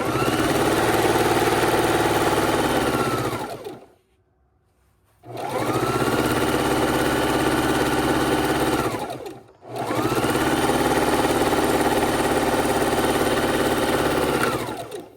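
Domestic sewing machine stitching quilt blocks and borders in long steady runs of about four seconds each, broken by short pauses, loud and close with no talking.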